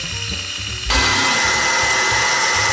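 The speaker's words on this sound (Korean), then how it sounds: "지금 걸려있는 톱이 목재용이 아니라 약간 비철금속류여가지고 아무래도 나무를 켜는데 속도가 나오진 않은 것 같은데요" Band saw fitted with a non-ferrous-metal blade cutting wood, a short burst that jumps from the motor's low hum to a steady, loud, bright whine as the blade bites into the workpiece.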